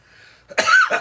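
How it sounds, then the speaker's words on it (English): A single short cough after smoking, close and fairly loud, preceded by a moment of near silence with faint background hum. "There's a little cough afterwards"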